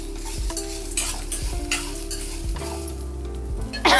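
Freshly grated coconut is stirred and lightly roasted in a pan, with repeated spoon scrapes and knocks over a steady soft sizzle, close by with no voices, ending in a sharper clatter.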